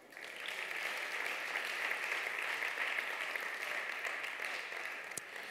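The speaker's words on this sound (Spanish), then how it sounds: "Dale un aplauso al Rey." A church congregation applauds steadily and loudly for several seconds, a dense sustained clapping that fades slightly at the end.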